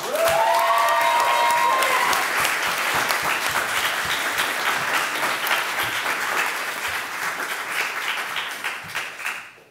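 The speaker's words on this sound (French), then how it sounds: "Mesdames et messieurs, sous vos applaudissements, Constant Teffra." A student debating-final audience in France bursts into loud applause with scattered whoops and cheers as a speaker is introduced, sustained dense clapping that holds strong before tapering off at the end.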